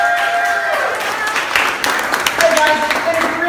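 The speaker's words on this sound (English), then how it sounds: "Let's give Jay a nice round of applause" A small tour group at a St. Augustine distillery claps for their guide after a cocktail tasting. The clapping is short and scattered, and people talk over it nearby.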